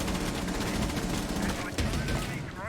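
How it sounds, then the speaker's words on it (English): Rainbow Six Siege gunfire punching a hole through a wall: continuous close automatic shooting with a dense rattling texture and debris crackle, mixed with game noise and voices. "Now I could potentially make a hole with my gun"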